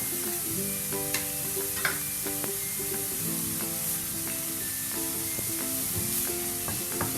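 Sliced onions and curry leaves sautéing in a pan, a steady soft sizzle with repeated scraping stirs of a spoon, close and moderately quiet.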